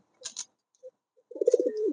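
Fancy pigeons kept for sale coo softly nearby, a low bubbling coo rolling out after a few short faint clicks and rustles, with no talk.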